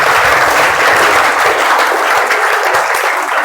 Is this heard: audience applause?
yes